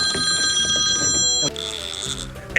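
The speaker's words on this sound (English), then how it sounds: "The phone's gonna ring any second now." A telephone bell rings with a bright, steady electronic trill for about a second and a half, then cuts off and gives way to a short burst of background noise, on a catfishing boat outing at Santee Cooper.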